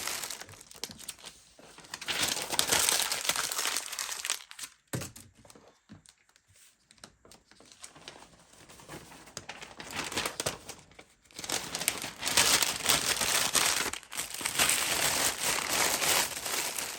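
Sheets of newspaper crumpled by hand to add height to a gift box, giving loud, continuous crinkling and crushing in long bursts, with a quieter pause in the middle before the crumpling resumes at full strength.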